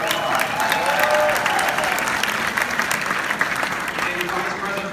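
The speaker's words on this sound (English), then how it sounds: "Give a big round of applause." Audience applause fills a political event for Democratic candidates at a university venue, steady and loud crowd clapping throughout with scattered voices mixed in.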